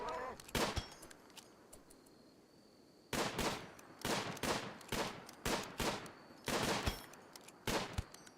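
Gunfire in the video game RimWorld, scattered single shots and quick bursts of sharp cracks, some clustered in rapid succession, fairly faint and set against a quiet background.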